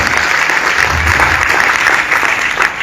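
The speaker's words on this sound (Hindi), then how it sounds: "पहले जोरदार ताली खुद के लिए" A training seminar audience gives loud, continuous applause, many hands clapping in a dense, even roar that fills the hall.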